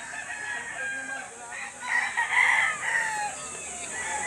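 White Hatch gamefowl roosters at the Lipa auction market, one crowing loudly and close by in the middle, with clucking fowl and market murmur around it.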